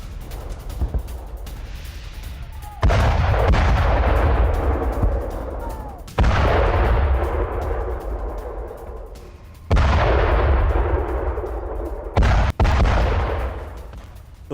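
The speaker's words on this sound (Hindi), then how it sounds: "सीरिया में रूसी फोर्स की एयर स्ट्राइक, इदलिब और लताकिया में बमबारी हुई है" Russian air strike bombing in Syria, heavy booming blasts of artillery fire, four or five loud deep explosions each rolling out into a long fading rumble, distant and powerful, with no voices.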